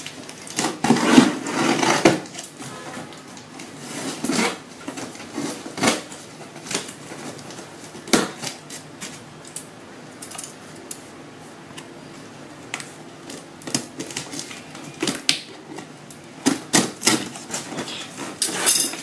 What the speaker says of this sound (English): I'm going to open the package that I just got, and it is Pokemon cards, and I'm going to open it now.